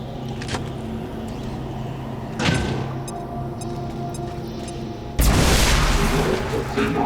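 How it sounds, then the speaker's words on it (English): A grenade blast in the XCOM 2 War of the Chosen strategy game, a loud broadband burst that booms in suddenly near the end and rumbles on over a steady game background, with a smaller thump a few seconds earlier. "starts things off with a grenade"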